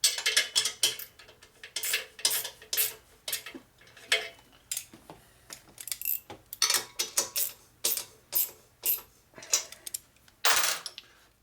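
A bolt being tightened on a used rigid bobber chopper bike: a series of close, sharp metallic ratcheting clicks and clanks in irregular bursts, separated by short pauses.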